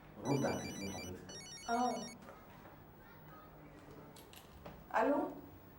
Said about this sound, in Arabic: رد على تليفون حضرتك.